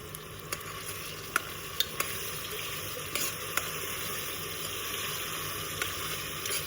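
Onion, tomato and ground mint-garlic masala fry in hot oil in a pan with a steady close sizzle, broken by a few sharp pops and spatters and occasional stirring clinks, with no talk.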